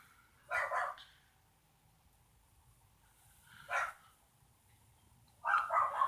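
A dog barks three times in short, spaced bursts, each a quick double yap of moderate loudness close by, separated by near silence.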